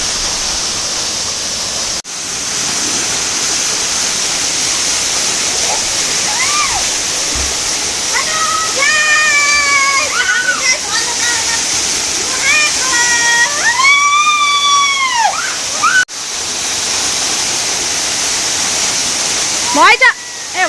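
A jungle waterfall roars as a loud, constant rushing wash that fills the whole clip, while people talk over it in the foreground.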